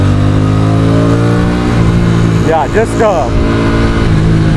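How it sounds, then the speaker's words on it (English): An Aprilia Tuono 457 motorcycle engine holds a steady, smooth exhaust drone at close range, and someone talks briefly over it midway. "This engine is like butter smooth, and the exhaust note is just music to my ears."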